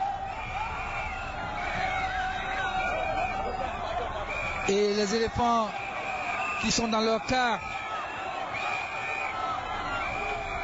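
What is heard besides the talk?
cheering crowd of fans at airport welcoming Ivory Coast football team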